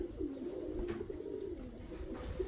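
Pigeons coo steadily in a low, warbling run with no pause, close by and moderately loud against a soft background hiss.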